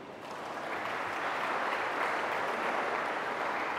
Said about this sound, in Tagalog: Pumalakpak nga yung mga sumasang-ayon.